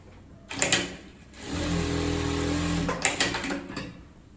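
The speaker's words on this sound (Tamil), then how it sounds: "இப்போ தைச்சி பார்க்கலாம்" An Orbito electric sewing machine runs a burst of normal straight stitching, with a steady mechanical whir and rapid needle clatter, set between shorter starts and stops, close and loud with no talking.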